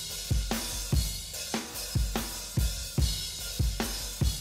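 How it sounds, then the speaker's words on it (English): A looped percussion sample in a steady groove of booming low kicks and hits about twice a second over a constant hissy, noisy bed, dense and close with no voices. "And then I have a percussion sample."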